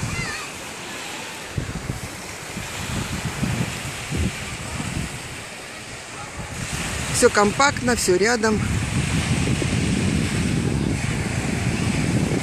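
Ocean surf breaking on a distant reef off a beach at Beruwala, Sri Lanka, a steady wash of wave noise with wind buffeting the microphone, heard under a person talking.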